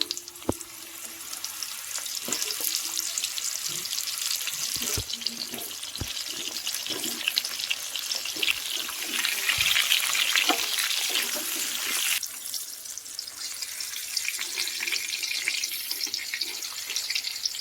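Mango pieces frying in oil for a pickle, a continuous moderate sizzle and hiss with scattered clicks and knocks from utensils, steady throughout.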